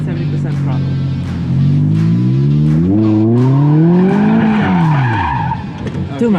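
A Mazda Miata ND kicks its clutch to start a drift, the engine revving and tires squealing in long rising and falling wails, loud and near, with a voice talking over it.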